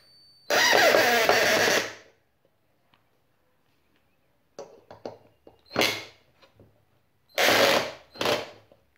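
A 12 V cordless screwdriver, the CR Ferramentas QFC1012-25N, drives a thick screw until its torque clutch slips. Three separate whirring bursts, each lasting about a second, are separated by quiet pauses, with brief clicks and rattles heard close up.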